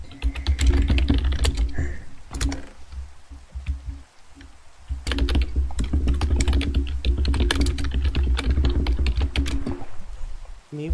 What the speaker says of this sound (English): Me when I'm typing on my keyboard?